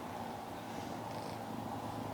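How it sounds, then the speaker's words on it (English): Kitten purring steadily and close by, a soft continuous low rumble running through the whole moment with no talk over it. "Oh, he's purring."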